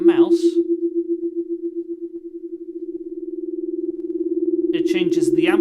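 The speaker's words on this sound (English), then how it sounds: "it changes the amplitude modulation of this sine wave" A steady synthesized sine tone pulses with amplitude modulation, the throbbing slowing and then quickening as the modulation changes; a voice talks briefly at the start and again near the end.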